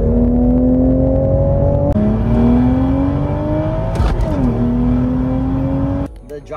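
A stock 2023 manual Toyota Supra, without piped-in engine audio, revs loudly up close. A steady climbing drone rises, dips sharply midway, climbs again, then cuts off abruptly near the end.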